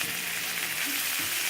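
Bitter melon (karela) stir-frying in oil in a pan, giving a steady, close broadband sizzle with faint low scraping from stirring, and no voices.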